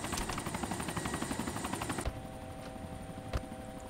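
A helicopter in the video game DayZ Overpoch thumps with a fast, loud rotor pulse that abruptly drops to a duller, steadier whine, with a sharp click near the end.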